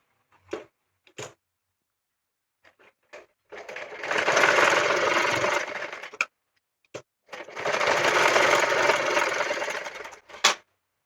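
Stitching a petticoat shoulder seam, a sewing machine whirs in two sustained bursts of a few seconds each, separated by pauses filled with faint clicks and fabric handling.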